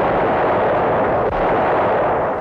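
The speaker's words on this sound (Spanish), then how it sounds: "con una bengala puesta en el suelo, pues hace que Amigo... explote" A sustained, loud, rumbling roar from an explosion set off by a flare in a low-budget Turkish Star Wars film, dense and continuous from start to end with no pauses.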